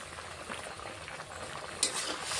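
A small-fish curry with dried mango simmers in a pot, a quiet continuous bubbling with soft pops and a brief louder burst late on, heard alone.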